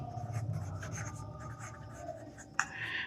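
Marker or chalk strokes on a board while a math division problem is worked out, a steady scratchy scribble with short bursts and a sharp tap near the end, no voices.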